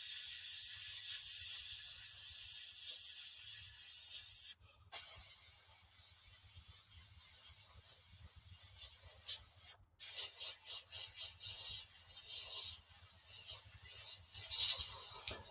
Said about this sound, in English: I'm just airbrushing squiggles and nonsense shapes all over this Panzer at the moment